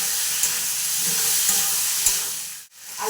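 Potatoes being sautéed with spices in oil give a loud, steady close sizzle with a few stir clatters, a brief dip near the end before the frying hiss resumes; no voices.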